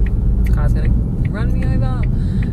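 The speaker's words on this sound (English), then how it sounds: "This car's gonna run me over." A car rolls close by on a street, its low engine rumble steady under someone talking throughout.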